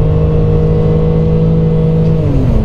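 A Mercedes-Benz W140 sedan drones loudly from inside the cabin under kickdown acceleration, its low engine hum steady and thick, with the pitch shifting in the final moment.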